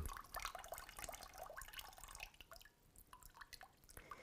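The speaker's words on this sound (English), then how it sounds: "until the water drains from the bottom." Water trickles and drips from the base of a freshly watered indoor plant pot, a close, light patter of irregular drops running for a few seconds.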